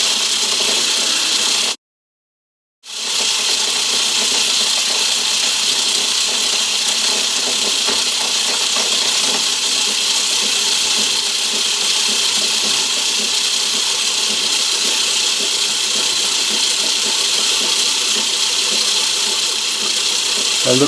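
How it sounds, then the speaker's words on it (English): A metal lathe on an imperial machine runs steadily while cutting a metric thread on a digital microscope stand extension, a continuous loud mechanical whir with a brief stop near the start, then uninterrupted machining noise. "I'm just going to start it up again now and take the next 5/1000th cut. And slow the lathe down a bit."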